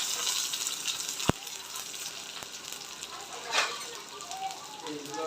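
Steady crackling sizzle of small onions frying in hot oil, with a sharp click and a faint stir partway through; no voices.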